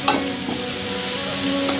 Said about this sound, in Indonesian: Kita tumis sebentar.